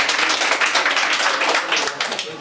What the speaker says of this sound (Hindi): तो लक्ष्मी मैम के लिए भी एक बार जोरदार तालियां बजाइए